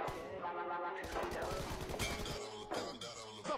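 PUBG gunfire landing a headshot, a few sharp cracking shots and impacts among busy game sounds, close and loud, with some talk mixed in.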